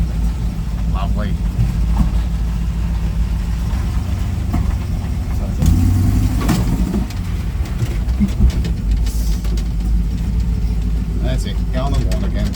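A broken GMC truck with a half-mounted cab idles rich and steady, its low engine rumble continuous and close while people talk over it.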